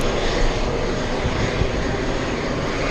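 A TWA Boeing 777 jet at JFK airport produces a loud, steady engine roar that holds without a break from start to finish, with no voices over it.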